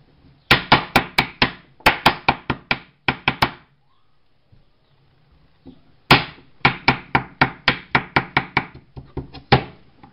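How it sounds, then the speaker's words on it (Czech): A knife chopping potatoes on a cutting board, in rapid bursts of crisp, sharp strikes with a short pause midway, close and loud with no talk. "a teďka začneme brambory krájet"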